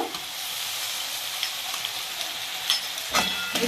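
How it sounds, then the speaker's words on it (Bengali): Ground masala paste of rice, melon seeds, poppy seeds and cashew frying in a pan, a steady close hiss with a few soft stirring scrapes and a brief louder sizzle burst near the end. "ভালো করে আমি একদম ভেজে নেব মশলাটা"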